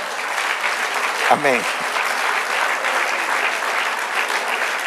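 Steady applause from a church congregation during a Spanish-language women's meeting, a continuous wash of clapping with a brief spoken word near the start.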